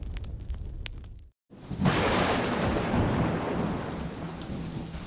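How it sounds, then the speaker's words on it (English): Thunderstorm effect in a Lego animation of the biblical story of Job: a loud rumbling thunder crash with heavy rain, a brief dead-silent cut, then sustained pouring rain and rumbling through to the end, no voices. "A storm kills all his children."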